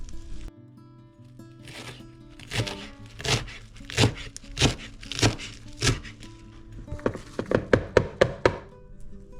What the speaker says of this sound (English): Now I'm gonna get some cilantro cut up.